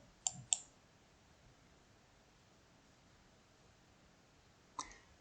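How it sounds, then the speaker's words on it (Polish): Faint mouse clicks on a start button in the Genially web app during account setup: a quick double click near the start, then a single click after a long quiet pause, with no talking. "zacznę zatem tutaj klikając na ten przycisk start"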